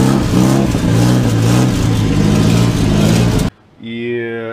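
A Volga car engine runs with its exhaust pulsing in a loud, rough throb for about three and a half seconds, then cuts off abruptly and a brief voice follows.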